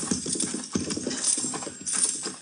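Horses' hooves clip-clop in a steady walking rhythm as a radio drama sound effect, moderately loud and close, with several overlapping hoofbeats and no talk over them.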